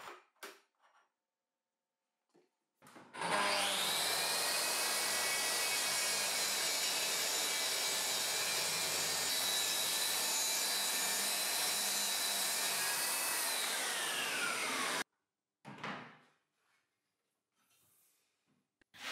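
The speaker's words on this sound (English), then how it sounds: "I'm going to test it by making some cuts on this plywood strip" A power saw cuts through a plywood strip along a hinged guide rail on a workbench, a loud continuous whine and rasp lasting about twelve seconds that stops abruptly, then brief faint shop noises.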